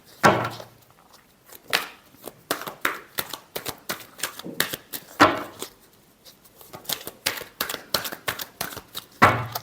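Tarot cards are shuffled by hand, giving a steady run of crisp, close riffling and tapping bursts with brief pauses between them.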